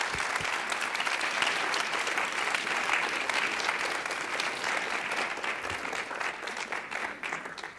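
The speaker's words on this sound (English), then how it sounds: "please join me in a round of applause for Reverend" A church gathering applauds as Reverend Catherine McKinney is introduced, a dense, even round of clapping from many hands that fills the room and tapers near the end.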